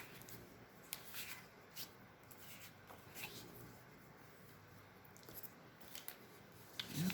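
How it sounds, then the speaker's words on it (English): A bone folder rubbed over freshly cut paper edges on a handmade card, faint soft scraping strokes repeating at a close, quiet level. "I always like to take my bone folder and flatten these little edges that I cut"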